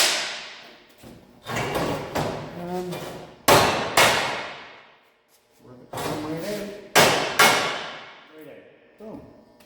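Heavy hammer blows strike steel rivets on a Ford Model A frame being stripped, ringing out in clustered bursts of sharp metallic clangs and thuds at close range, with short pauses between groups.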